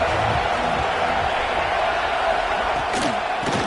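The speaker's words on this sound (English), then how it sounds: "This crowd ready to make its presence known." A football stadium crowd roars as a steady, loud wash of noise throughout, with a couple of sharper shouts near the end.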